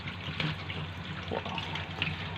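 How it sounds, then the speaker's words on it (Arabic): Shrimp rinsed by hand under a running kitchen tap during peeling and cleaning, a steady soft gush of water with faint splashes and handling, moderately quiet and close, no talk. "بيتغسل كده يا حبايبي تحت الميه اهو"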